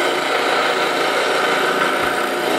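Wood-turning gouge pressed against a spinning grinding wheel, a loud steady abrasive hiss and grind held continuously without a break, close up and alone.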